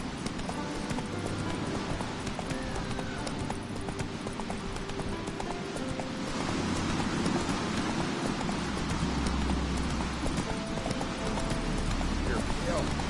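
Horse hooves clip-clop in a steady, continuous rhythm while riding in The Witcher 3, close and even throughout, with a constant ambient bed and occasional faint voices.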